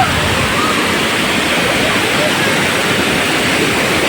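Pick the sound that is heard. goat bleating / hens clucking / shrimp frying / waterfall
waterfall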